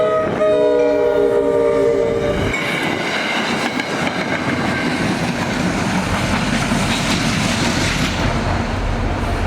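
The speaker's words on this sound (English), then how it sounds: "Oh, there's a train coming." A loud train rumbles past close by during a heavy snowstorm, its horn blaring at the start, then a steady roar of rolling wheels and clatter.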